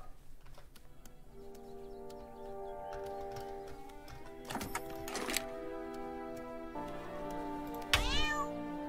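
A cartoon cat meows in South Park: The Stick of Truth, a few short mewing calls over steady game music and background ambience.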